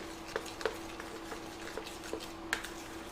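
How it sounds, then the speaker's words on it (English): A spoon stirs a pinch of salt into a brookie baking mixture in a bowl, giving soft repeated scrapes and light taps at an irregular rhythm, close and quiet with no talk. "then just stir that in"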